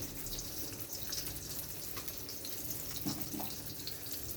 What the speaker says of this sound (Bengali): যতক্ষণে মাছটা ভাজা হচ্ছে